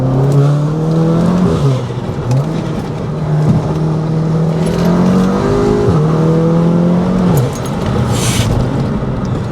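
A VW Golf R MK7 rated at 380 brake horsepower is driven quickly, its engine droning and rising through the revs with shifting pitch and brief dips between gears, loud and close from inside the cabin.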